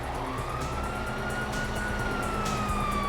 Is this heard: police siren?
yes